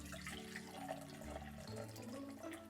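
Hot water running from a tap into a measuring cup, a half cup for salt dough, a steady splashing and gurgling stream heard alone at low level.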